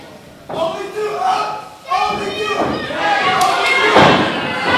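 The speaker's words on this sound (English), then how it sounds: "What a snap suplex from Damien Angel." A wrestler slams onto the ring mat from a snap suplex at a CWF live wrestling event in Tampa, a heavy thud under continuous excited ringside commentary.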